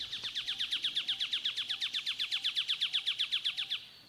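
A bird in a forest near a campsite sings a fast, even trill of about thirty sharp, clear notes over roughly four seconds. It is close and loud against quiet woodland, then stops abruptly.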